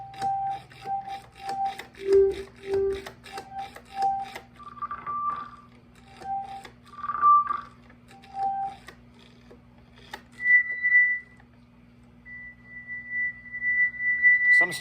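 A Hammond organ plays short sustained tones as the drawbars are stepped through after a drawbar repair. Brief notes shift in pitch with quiet gaps between them, a faint hum sits underneath, and longer held tones come near the end.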